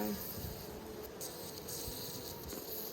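Honey bees buzz around a newly set-up hive, a faint, continuous drone of several wings close by with soft flickers of individual bees passing, and no talking.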